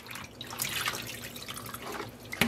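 Water being poured out of a dye basin after dyeing merino and silk roving with Easter egg dye, a close continuous gush of pouring and dripping liquid with a splash at the end.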